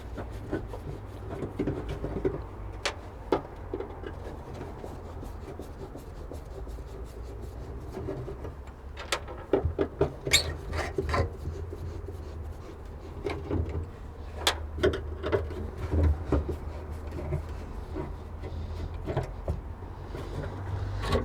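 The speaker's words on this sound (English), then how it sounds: "another favourite one I will show you by removing this cover. There's 4 screws." Screws are removed from an interior cover on a Mitsubishi 3000GT, heard as faint scattered clicks, scrapes and rubbing of tools against plastic, close and irregular over a quiet background.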